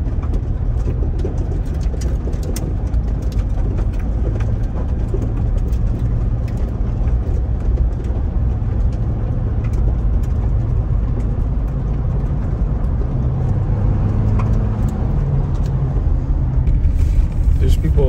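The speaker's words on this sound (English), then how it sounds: "You can hear all the mud coming off the tires." A 2023 Jeep Wrangler Rubicon 4xe driving off-road through Everglades mud, with a continuous loud low rumble of engine, tires and flung mud spattering, someone talking over it.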